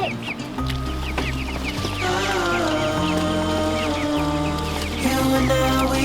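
Broiler chickens, about ten kept together in a small pen, cluck and chatter continuously, close by, with music playing underneath.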